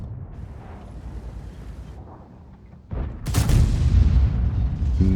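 The main gun of a T110E3 tank in World of Tanks fires once as a sudden heavy blast after a quiet rumbling lead-in, followed by a loud, sustained roar and rumble of the battlefield.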